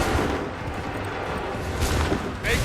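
Musket volley fire in Assassin's Creed 3, a dense continuous rumble of massed gunshots and booms with a sharper burst near the end, no voices.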